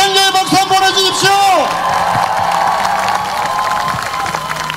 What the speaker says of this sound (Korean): 큰 격려의 박수 보내주십시오